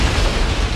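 A large explosion at a refinery fluid catalytic cracker, set off when a hazardous mixture of air and hydrocarbons ignited, comes through as a loud, dense roar that holds steady for under a second with no voices.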